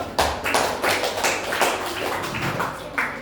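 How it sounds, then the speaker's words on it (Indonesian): A small group in a classroom claps close by, the individual claps distinct and uneven in a loose, brief round of applause. "Kita beri tepuk tangan untuk orang dulu."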